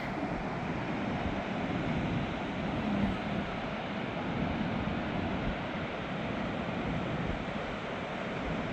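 Waves roll in at high tide on Towan Beach in Newquay, Cornwall, making a steady, even roar of surf mixed with wind buffeting, with no distinct single breakers.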